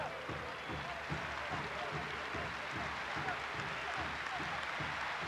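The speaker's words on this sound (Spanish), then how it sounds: "Aplauden a Víctor Zapata, una de las figuras de este partido." A football stadium crowd applauds a substituted player, Víctor Zapata, during a 2006 match against River, a faint, distant, steady wash of clapping spread across the stands.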